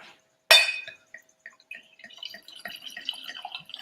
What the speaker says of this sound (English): And I'll pour a sample here.